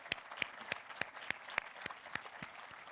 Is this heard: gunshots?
no